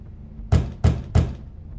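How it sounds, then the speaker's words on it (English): Three firm knocks on a door in the video game The Wolf Among Us, evenly spaced and close, each a sharp thud with a short ring-out, no talking. "How polite of you to knock"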